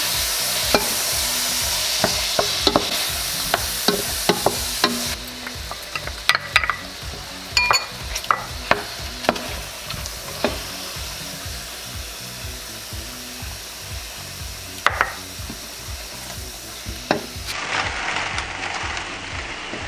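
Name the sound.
sautéing mushrooms and spinach in a hot pan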